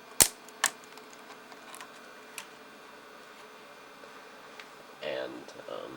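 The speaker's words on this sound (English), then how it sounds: "Next up, I need to take off the keyboard, like so." Keyboard being pried off an iBook G3 laptop during a RAM upgrade: a couple of sharp plastic clicks near the start, then scattered faint ticks and a brief rustling scrape at the end, close and quiet.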